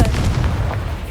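A Confringo fire spell exploding in the game Hogwarts Legacy, a loud, booming blast that fills the whole moment with heavy low rumble and no speech.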